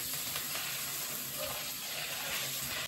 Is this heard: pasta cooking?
yes